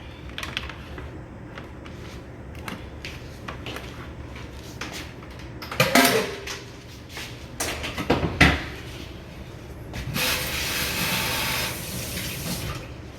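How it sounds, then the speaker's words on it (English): Running tap water splashes over hands at a kitchen sink, with loud bursts of rinsing near the middle and a steady stream of water toward the end, surrounded by small kitchen clatter. "Wash my hands."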